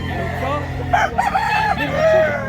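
A three-year-old rooster offered for sale crows once, close and loud, its drawn-out call rising and falling over a low background hum.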